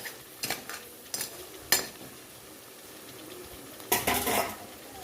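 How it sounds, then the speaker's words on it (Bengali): Cut mud crabs being stirred in a cooking pan: a few sharp clinks and scrapes of a utensil against the metal, spaced out and fairly quiet, over a low background hush. "এখানে আমার কেটে রাখা কাঁকড়াগুলো দিয়ে দিচ্ছি। এখন এটা খুব ভালো করে কষাতে হবে।"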